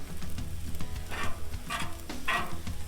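Chicken fried rice is pushed and spread across a hot Blackstone griddle, steady close sizzling broken by three scraping swipes of a metal spatula.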